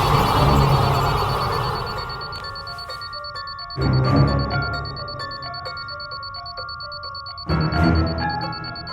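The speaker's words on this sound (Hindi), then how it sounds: "अलार्म क्लॉक की आवाज" A phone plays an alarm clock ringtone, a bright repeating electronic ring heard up close in a quiet room, rising and falling in bursts over several seconds.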